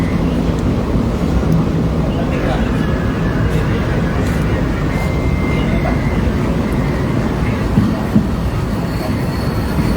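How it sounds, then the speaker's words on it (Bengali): A train runs toward Bardhaman station, its steady rumble and rattle of wheels filling the space continuously from inside the carriage, loud and unbroken. "ট্রেনটা তো এগোচ্ছে সামনের দিকে"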